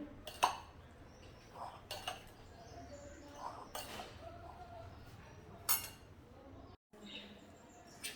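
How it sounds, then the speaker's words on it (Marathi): Garlic and salt being stirred together in a metal kadhai for a fresh turmeric pickle, with scattered sharp metallic clinks and scrapes of a spoon against the pan, close and fairly quiet, no talking. "लसूण मीठ घालते आणि हे मिक्स करून घेते आधी"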